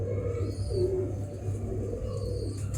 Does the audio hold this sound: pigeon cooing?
yes